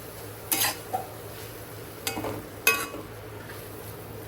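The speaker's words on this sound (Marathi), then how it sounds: "आपण कोथिंबीर टाकूया आणि मिक्स करून घेऊया" Chopped coriander stirred into cooked mustard-blossom vegetable in a pan, with a few soft scraping strokes and light clinks of the spoon against metal, spaced apart over a quiet background.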